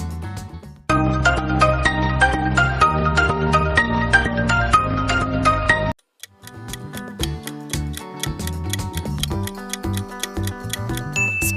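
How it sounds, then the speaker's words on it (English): The Infinix mobile phone ringtone plays as a steady electronic tune of layered synth notes. It stops for a moment, then resumes as a lighter, plinking melody with a beat underneath, clear and without any talking. "Spot on. That's an Infinix."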